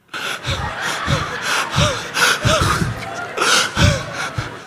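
A voice imitates gasping for breath during a church sermon, giving a run of loud, close, rhythmic panting gasps and snorting inhales, as if badly out of breath.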